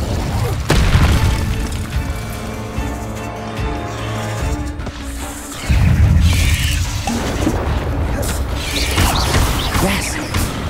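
A fire spell cast in Hogwarts Legacy erupts with deep booming whooshes and crackling rumble, rising in loudness in the second half over a layer of game score.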